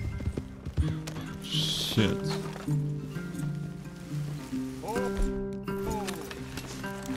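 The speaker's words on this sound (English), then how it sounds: "Leave the horses in the trees there." Horses' hooves clip-clopping on soft ground in Red Dead Redemption 2, close and steady under overlapping music and game dialogue, with a man swearing briefly.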